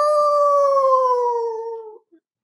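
A dog howls in one long, sustained, loud wail that slowly falls in pitch and fades out after about two seconds, with no talking over it.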